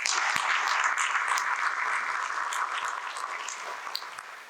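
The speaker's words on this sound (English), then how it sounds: "Let's just give them a round of applause" A conference audience at a solar energy expo applauds its sponsors, a steady wash of clapping that holds for several seconds and slowly fades.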